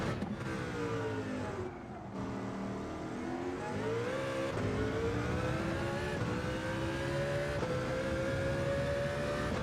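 Race car engine in a racing video game revving steadily at high pitch, rising and falling through gear changes, loud and continuous with no talk over it.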